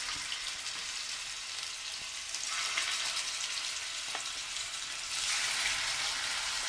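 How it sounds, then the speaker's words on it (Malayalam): Chicken pieces fry in hot oil in a pan, a loud continuous sizzle and crackle close by that swells as more pieces go in, with no talking. "ഇതിലിട്ട് നമുക്ക് ചിക്കൻ നന്നായിട്ട് ഫ്രൈ ചെയ്തെടുക്കാം."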